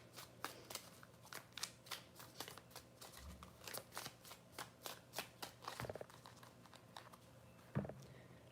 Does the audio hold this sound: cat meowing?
no